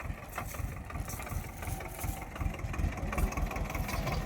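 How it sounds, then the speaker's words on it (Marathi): A tractor engine idles with a continuous low, chugging rumble, steady and fairly close, with no talking over it, during watermelon loading on a farm. "आता ट्रॅक्टर आपण इथं लावू"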